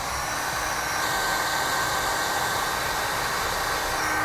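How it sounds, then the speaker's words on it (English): Heat gun blowing a steady, hissing stream of hot air to shrink a butt connector on wiring for a 2016 Jeep Grand Cherokee, close and constant with a small change in tone near the start. "Now we use a heat gun to shrink down our butt connector."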